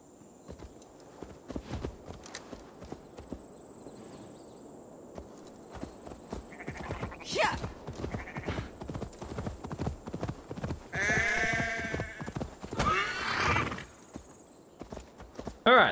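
Horse hooves clip-clopping at a steady walking rhythm in the Assassin's Creed Valhalla video game, soft and fairly close, with brief game sounds and faint voices layered over it.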